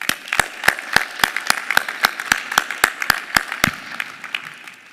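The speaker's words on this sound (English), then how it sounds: "I'd like to give Father Judge High School as the best practice model a round of applause." Sparse, distinct hand claps ring out one by one at a steady pace, sounding like a thin round of applause from a small audience at a Philadelphia talent pipeline signing day honoring Father Judge High School, then stopping abruptly.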